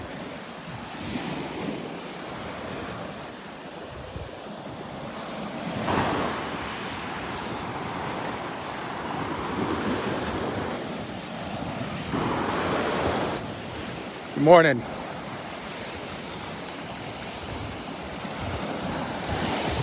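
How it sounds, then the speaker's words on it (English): Waves break and wash along the Delnor-Wiggins beach on a windy morning, a continuous surf roar with swelling surges and wind buffeting. A brief greeting is spoken once. "There's a ridge right along here where the waves are breaking, right in here."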